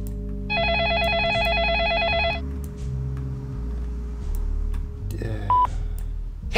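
A telephone rings in the PC video game Façade: a steady warbling electronic trill lasting about two seconds, then after a pause a second short ring, over low background music.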